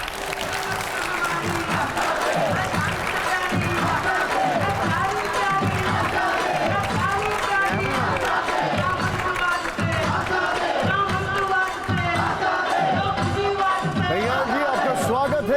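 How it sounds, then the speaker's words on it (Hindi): A TV9 Bharatvarsh studio audience cheers and applauds Kanhaiya Kumar, with loud, dense clapping and crowd shouts carrying a steady rhythmic pulse throughout. "जोरदार तालियां एक बार फिर से कन्हैया जी के लिए।"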